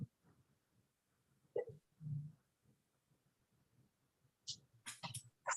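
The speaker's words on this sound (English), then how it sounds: "That's somebody's dog." A dog barks a few times in short, faint bursts, distant as if from a street outside, near the end of a quiet stretch during a remote planning board meeting.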